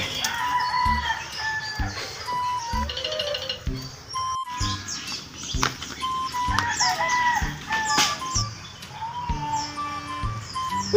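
Chickens cluck and a rooster crows repeatedly nearby, with chirping birds and occasional faint voices in the background.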